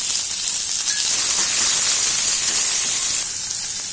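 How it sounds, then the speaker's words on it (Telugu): Onion pieces frying with garlic and curry leaves in a pan for amaranth leaf curry, a loud, steady close hiss and sizzle that swells in the middle and eases slightly near the end, with no talking. "వెల్లుల్లి కాస్త వేగాక కరివేపాకు కట్ చేసి పెట్టుకున్న ఉల్లిపాయ ముక్కలు వేసుకోవాలి।"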